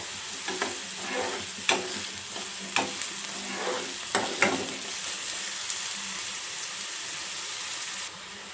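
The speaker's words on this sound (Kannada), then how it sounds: "ಈರುಳ್ಳಿ ಚೆನ್ನಾಗಿ ಎಣ್ಣೆಯಲ್ಲಿ ಸ್ವಲ್ಪ ಫ್ರೈ ಆಗಲಿ" Chopped onions fry in hot oil for egg bhurji, a steady sizzle running throughout with sharp scraping and stirring clicks from a spoon against the pan, close and clear, with no talking.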